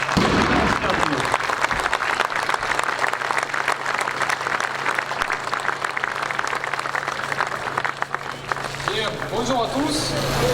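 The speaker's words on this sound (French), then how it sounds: "je souhaiterais qu'on l'applaudisse bien fort" Sustained crowd applause at a farmers' protest in honour of an injured farmer, loud and continuous throughout with talking mixed in, and a few sharper sounds toward the end.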